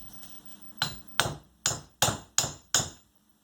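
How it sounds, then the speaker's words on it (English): A heavy hammer strikes a 4mm hex key seated in an impact driver while freeing pins and nuts on a Lofrans Royal anchor windlass: six loud, sharp metallic blows at an even pace, close up, with no talking. "4mm hex key by tapping that with a hammer, a heavy hammer"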